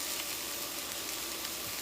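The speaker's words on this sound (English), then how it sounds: "so I know you can hear it sizzling" Crispy salmon fillet sizzles steadily in a hot pan, a dense continuous hiss with faint pops, close and loud with no talking.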